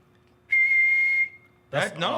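A single sustained whistle, steady and fairly loud, holding one pitch for about a second before fading, followed by a burst of talking.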